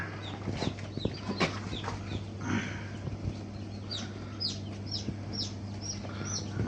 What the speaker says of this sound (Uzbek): Bir kilitkamizdan hozir ochilgan jo'jalar